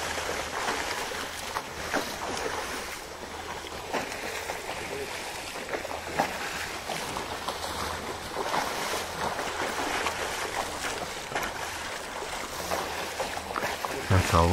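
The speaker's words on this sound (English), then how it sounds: "all that splashing you're hearing is them defecating and using their tails to twirl it around as they eject it" Hippos thrash and splash in murky water of the Serengeti Western Corridor, twirling their tails as they defecate, producing a steady churning, sloshing wash of water noise throughout.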